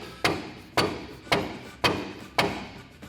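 A dead blow hammer drives a suspension part of a Ford F150 into place during a bolt-on lift kit install. Five solid, evenly spaced thuds land about every half second, close and loud, each followed by a short decay.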